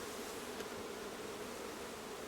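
Honey bees buzz steadily throughout an open hive inspection, a continuous close hum with no talk.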